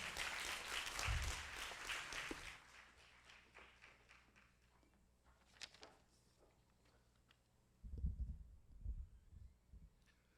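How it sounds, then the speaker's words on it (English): A burst of audience clapping swells for a couple of seconds and fades, followed by quiet scattered taps and a later round of thumping sounds. "A round of applause, guys."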